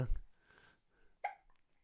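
A baby hiccups softly nearby, two short separate hiccups about a second apart, faint and close in a quiet room.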